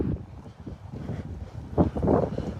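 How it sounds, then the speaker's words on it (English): Wind buffets a microphone outdoors in irregular low rumbling gusts, strongest near the end. "I'm sorry it's so windy"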